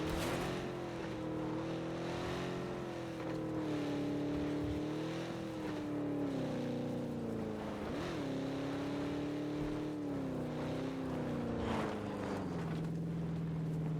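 Engines drone continuously in PUBG, their pitch sliding up and down as vehicles rev and pass, with a steady hum and scattered thumps from the game.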